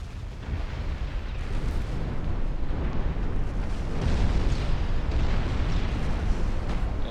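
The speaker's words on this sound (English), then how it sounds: "Oh, there goes one of their battleships." A French battleship blows up in the naval game Ultimate Admiral Dreadnoughts: a dense, continuous booming rumble that swells and rolls for several seconds, loud and without talk.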